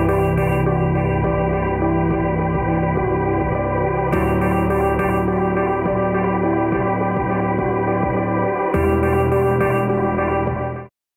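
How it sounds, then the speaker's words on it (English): A looped, noisy granular piano note with tape delay forms a homemade downlifter, a sustained tonal texture with echoing repeats and gliding pitch, restarting in three even cycles before stopping abruptly. "I've taken the note that I like the most from our noisy granular piano"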